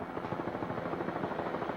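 A helicopter flies above racing powerboats with powerful motors, giving a continuous rough, rumbling drone with fast rhythmic chopping pulses, steady and fairly faint, with no voices.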